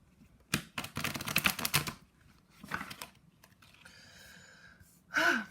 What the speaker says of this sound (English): they need this type of shuffling